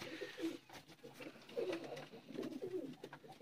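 A male Weshi Sialkoti pigeon coos close by, several soft, throaty rolling coos repeating in short phrases with no other sound around them.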